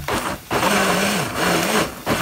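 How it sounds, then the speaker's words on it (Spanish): A kitchen blender whirs as it purees sauce and ground meat for pizza topping, a loud close motor hum that dips briefly between steady runs. "entonces vamos a poner la salsa en la licuadora"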